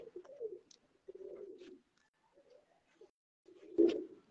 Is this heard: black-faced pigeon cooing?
yes